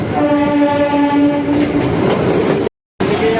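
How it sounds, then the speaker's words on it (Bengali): Train pulling into Park Circus station, loud close rumble and clickety-clack with a sustained horn tone, briefly cutting out near the end before resuming. "আমাদের ট্রেন পার্ক সার্কাসে ঢুকে গেল"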